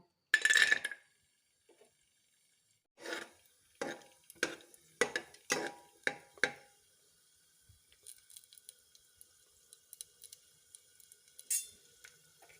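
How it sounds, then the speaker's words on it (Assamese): Cashews tossed into a little hot oil for a pulao give a short burst of sizzle, then a series of separate scraping stirs and soft clinks against the pan, quiet overall with pauses between. "মই ইয়াত কাজুকেইটা অকণমান ভাজি লওঁ।"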